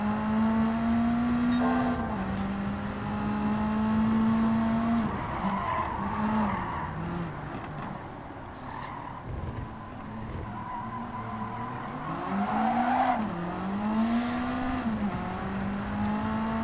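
A Ferrari F430 races in Gran Turismo 7, its engine holding a loud, sustained droning whine that dips and rises through gear changes and braking, with tire squeal and skidding layered over it throughout.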